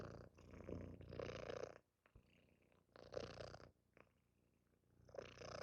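A cat purring up close in soft, rhythmic bursts, each rumbling purr separated by brief quiet breaths, intimate and fairly quiet.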